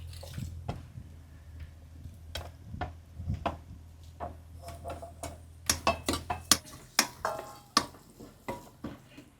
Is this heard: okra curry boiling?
yes